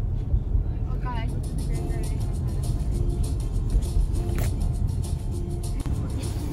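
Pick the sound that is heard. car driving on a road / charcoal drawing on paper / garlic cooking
car driving on a road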